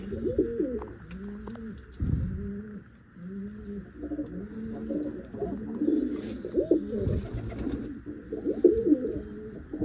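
Pet pigeons coo in repeated, rhythmic phrases close by, several birds overlapping in a steady series of soft, throaty calls with little else around them.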